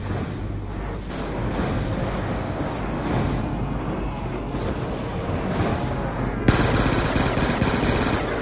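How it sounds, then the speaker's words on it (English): Death Machine minigun from Black Ops 2 Zombies roaring in a sustained, dense stream of rapid fire, loud and continuous, with a brief burst of sharper intensity near the end. "Still have ammo in that death machine"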